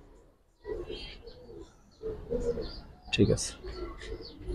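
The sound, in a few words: Giribaz and silver pigeons cooing in a loft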